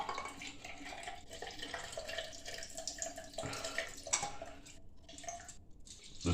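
Drinking water running from a tap into a sink, a steady close splashing flow with dripping, with no talk over it.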